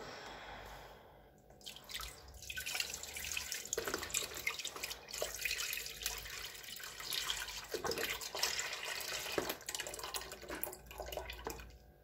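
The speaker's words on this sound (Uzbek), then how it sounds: "quruq bir qozonimning ichiga 1 litr sutni olaman" Liquid pours steadily into a pot, a continuous splashing stream that starts after a short quiet lead-in and runs close and clear, no talking.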